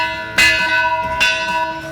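A large bell rung in celebration of the UTRGV volleyball team's win, two loud clangs about a second apart, each ringing out with long sustained overtones.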